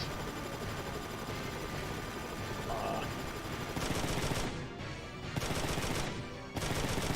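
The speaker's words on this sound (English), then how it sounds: "the defense systems have shot the helicopter" Dense, sustained rapid gunfire from defense systems shooting down a helicopter in the video game Front Mission 3, with bursts swelling louder toward the end over a constant mechanical din, like a chaotic battle.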